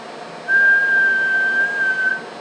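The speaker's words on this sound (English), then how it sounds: "I'll give it a quick whistle." A single steady whistled tone, loud and clean, held for nearly two seconds into a CB radio microphone on a Ranger RCI 63FFC1 radio with a built-in amplifier, over faint background hiss.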